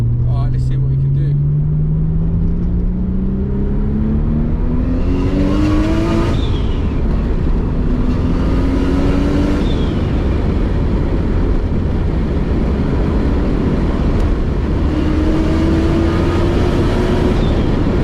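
A 2.0-litre Nissan R32 Skyline tuned to about 420 horsepower pulls hard at high boost, its loud engine note rising through the gears with brief dips at each shift, heard from inside the car.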